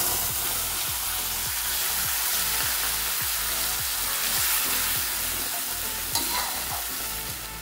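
Ground onion and garlic paste fries in oil with cumin and bay leaf, a steady loud sizzle with a regular rhythm of spatula strokes scraping the pan, up close with no talking.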